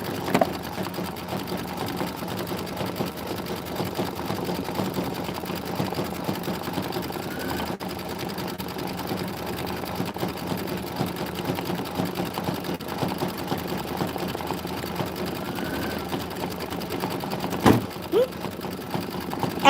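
An embroidery sewing machine stitches continuously, a fast, even mechanical whir and tapping that holds steady for nearly twenty seconds, with a brief knock near the end.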